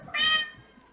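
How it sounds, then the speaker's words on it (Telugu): A cat that wandered onto the stage at a Telugu film pre-release event gives a single short, high meow, close and fairly loud, with faint room noise after it. "పాపం అది మన ఇక్కడికి వచ్చిన పిల్లి అండి,"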